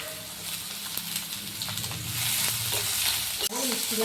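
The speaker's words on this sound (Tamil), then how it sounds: "வெங்காயத்தை எடுத்து போட்டுக்கிறேங்க வெங்காயம் கொஞ்சம் வதங்கட்டும்" Onions sautéing in oil with a clove in a pan for hotel-style mushroom gravy, a steady close sizzle with light stirring scrapes and a brief clink near the end.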